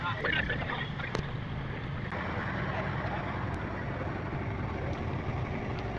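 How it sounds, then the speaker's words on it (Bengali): MV Captain, a passenger launch, pulling away from Dhulia launch ghat on the river at night. Engine and water wash make a steady, broad rumble with wind noise over it, and a few faint knocks come through. "ধুলিয়া লঞ্চ ঘাট থেকে ছেড়ে যাচ্ছে এমবি ক্যাপ্টেন।"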